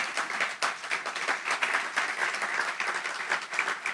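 Congregation applauding in church after a pastor's call to praise the Lord, steady dense clapping filling the whole stretch at moderate level with no voice over it.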